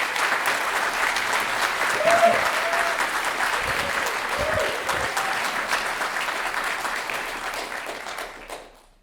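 A large audience at a university State of the University address breaks into sustained, dense applause that holds steady for several seconds before tapering off and fading out.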